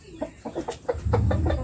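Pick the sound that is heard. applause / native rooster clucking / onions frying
native rooster clucking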